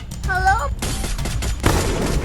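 Rapid M14 rifle gunfire in a video game, a dense run of sharp cracks and booms across the whole stretch, mixed with a brief rising tonal game sound and other battle noise.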